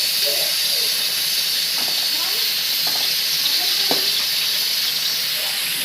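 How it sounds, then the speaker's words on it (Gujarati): Chillies fry slowly in a pan with a constant sizzling hiss, steady throughout, with a few faint knocks and indistinct background sounds underneath. "તળવાનું ચાલુ છે ધીમું ધીમું."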